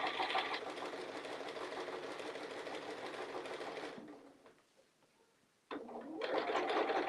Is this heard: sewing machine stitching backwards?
yes